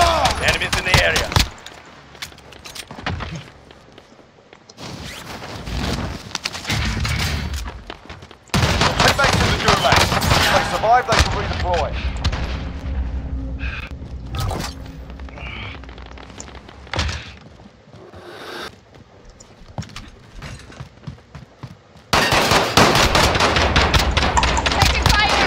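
Bursts of automatic gunfire from Call of Duty Warzone come in heavy volleys with gaps between, loud and close, mixed with game voice callouts.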